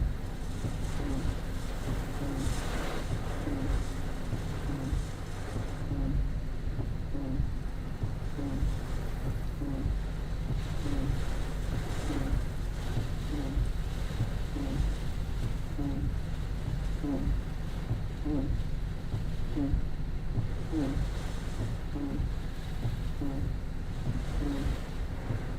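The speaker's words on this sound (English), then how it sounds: "A little stronger winds now. The band is passing overhead, so we're starting to get into the heavier band now." Strong, steady wind from a Tropical Storm Debby rain band roars continuously over an open microphone, with rhythmic buffeting and occasional louder gusts throughout, and no voices.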